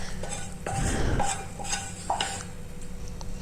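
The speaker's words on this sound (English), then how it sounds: "Then I'm stirring it." A spoon stirring pepper rice with meat and vegetables in a pot, with repeated close metallic scrapes and clinks against the pot at an uneven rhythm, with no talk.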